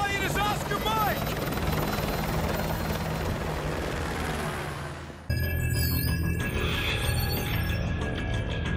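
A military helicopter in Call of Duty Modern Warfare 2 gives a loud, continuous rotor roar with dense chopping noise, briefly dropping in the middle before resuming, while voices speak over it.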